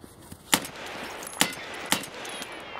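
Gunfire in the shooter game Escape from Tarkov, played inside a building: three sharp, loud shots spaced unevenly over a few seconds against a steady background hiss.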